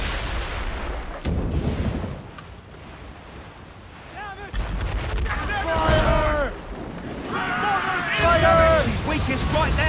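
Cannon and mortar fire in a naval battle in the Assassin's Creed Rogue video game, with heavy booming blasts over wind and surf while voices shout in the middle of the combat.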